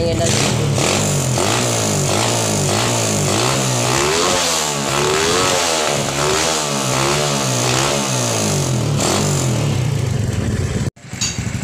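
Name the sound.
modified Modenas Lagenda 110 motorcycle engine revving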